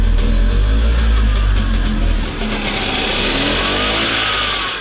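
A car engine driven with throttle and clutch hand controls on the steering wheel revs loudly and close, with a deep rumble that settles into a steadier mid-pitched drone, no voices.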